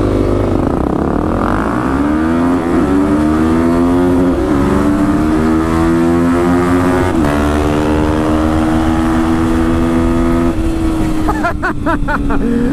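A 2016 Yamaha WR engine revs and accelerates hard, its pitch climbing steadily in a loud, continuous howl that holds high near the mic before a brief rattling flutter at the end.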